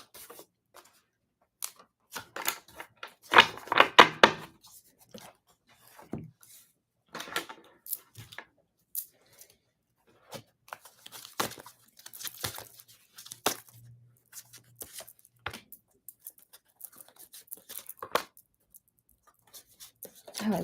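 Tarot cards being shuffled and handled, intermittent papery riffles, slides and taps in short close bursts separated by quiet gaps.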